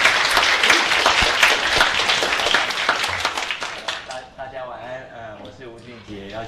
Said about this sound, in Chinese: 我们以热烈的掌声来欢迎吴主任